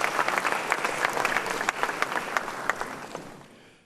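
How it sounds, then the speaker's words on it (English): Warm applause from an audience at an honorific lecture in Ghana, with individual sharp claps standing out from the steady wash before it fades away at the end. "Please do a big round of applause."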